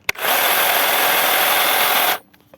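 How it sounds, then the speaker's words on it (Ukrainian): A Stihl HSA 45 cordless hedge trimmer for lavender switches on and runs with a steady, loud, buzzing whir for about two seconds, then cuts off abruptly into quiet. "Начне аж працювати, коли візьмете. Включаєте. От. Клавіша."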